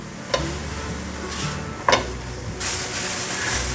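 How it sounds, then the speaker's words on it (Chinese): Seasonings with Himalayan black salt being stir-fried in a pan for a vegan stuffed bitter melon dish, a steady soft sizzle with a few sharp spatula scrapes and taps, close and without talk. "把调味料炒匀。"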